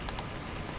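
Two quick, crisp keystrokes on a computer keyboard as an amount is entered into an Excel workbook, close and clear over a faint background hiss.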